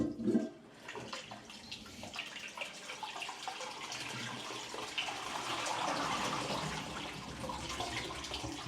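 A hotel room toilet at the Holiday Inn London Gatwick Airport flushes, a faint rushing swirl of water that builds and keeps running through the stretch, quiet and slightly distant.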